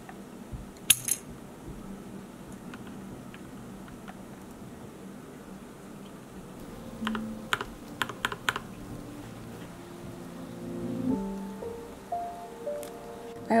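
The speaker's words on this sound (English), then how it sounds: "So we're gonna test this on my keyboard to see if it works." Fingers tap on a computer keyboard fitted with a tiny handmade chubby cat keycap, a scattered run of light clicks that grows busier and louder toward the end, with faint tonal sounds in the background.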